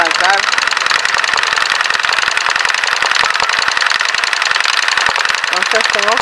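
An electric sewing machine stitching simple flowers runs with a rapid, rattling mechanical chatter for the whole stretch, its motor faltering as if reluctant to start, while someone talks over it.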